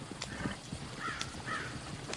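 Horses moving close by, with a steady clip-clop of hooves and a brief whinny rising above a low, moderately quiet background.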